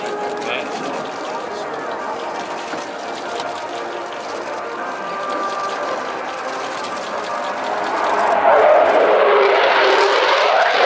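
Sukhoi Su-27P1M Flanker with twin Saturn AL31F turbofans at the Royal International Air Tattoo airshow, a steady distant jet roar that swells louder and broader toward the end, under continuous commentary.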